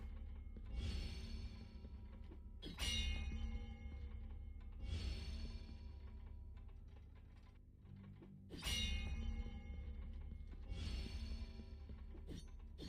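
Bell being struck in the video game Blasphemous, sounding as bright metallic clangs that ring out three times at regular intervals over a steady low game ambience and music.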